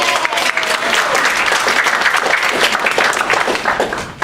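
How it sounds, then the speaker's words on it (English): Sustained applause from a crowd at a sales meeting, steady dense clapping at full volume throughout, with no break. "let's give Ed a round of applause."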